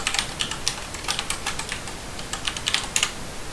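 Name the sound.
typing commands on a computer keyboard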